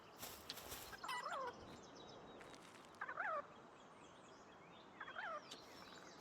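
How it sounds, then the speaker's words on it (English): A game fowl cries out three times in a video game, each a short warbling gobble-like call spaced about two seconds apart, faint over a steady ambient background. "What chicken is just crying?"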